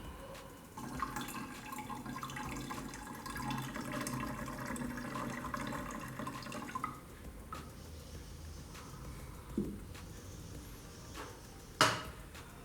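Grape juice concentrate, already dissolved in a glass of water, is poured into a container of water: a steady close trickle and splash for about seven seconds, then quieter handling with a couple of sharp knocks near the end.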